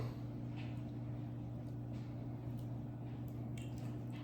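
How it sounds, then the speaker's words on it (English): Sauce dripping over beef ribs in a kitchen, faint wet squishes and drips over a steady low hum, no voices. "You drip it over."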